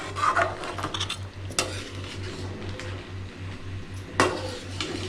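A spoon scraping and stirring thick crab masala in a pot, with soft rasping strokes and a couple of sharp metal clinks against the pot over a low steady hum.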